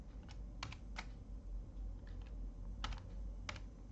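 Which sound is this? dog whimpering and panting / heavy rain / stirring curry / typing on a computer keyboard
typing on a computer keyboard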